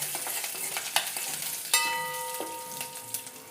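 Urad dal and curry leaves fry in hot oil, a continuous crackling sizzle broken by sharp pops and spatters, with a few brief clinks of a utensil, close and fairly loud.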